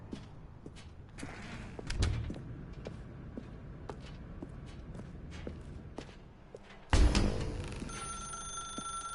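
A telephone rings in a video game, repeated bright tones running through a dark room. Footstep-like taps sound throughout. A louder burst near the end carries a steady high ring.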